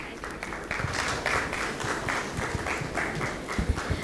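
Audience applause at a supply-chain finance conference fills the room after a presentation, a steady wash of many hands clapping at moderate loudness with a few sharper nearby claps toward the end.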